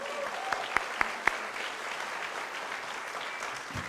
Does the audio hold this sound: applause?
yes